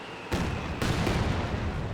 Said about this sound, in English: Katusha barrage running on in.